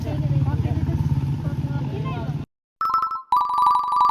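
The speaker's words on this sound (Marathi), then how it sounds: "का मला फोन येतो." People talk for a couple of seconds, then after a brief silence an incoming call on a mobile phone sets off a ringtone, a bright repeating electronic melody that plays loud and clear on its own.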